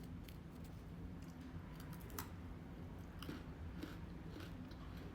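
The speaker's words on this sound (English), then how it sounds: "Really good, really nice crunch, way better than the Parmesan crisps that come in the bag." Someone bites and chews crunchy carnivore crackers with a crispy baked crust: soft, repeated crackly crunches, close but faint, with no talking.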